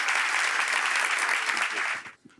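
Studio audience on a French talk show applauds a guest walking up to join the host, a dense steady wash of clapping that cuts off abruptly near the end, leaving brief faint murmurs.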